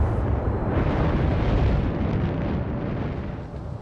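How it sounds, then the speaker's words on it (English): The secondary guns of an Italian battleship, the Giulio Cesare, fire in World of Warships as a continuous roar of blasts and rumbling booms, loud and dense, fading slightly toward the end. "I always love watching the secondaries go."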